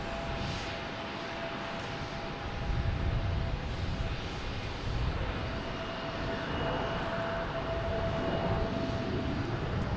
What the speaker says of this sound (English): Here's Delta heading to Minneapolis.